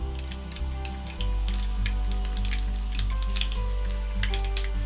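Cumin and mustard seeds sizzle in hot oil for a Sri Lankan brinjal curry, a close crackle of sharp pops and spits over a low steady hum that swells after a moment.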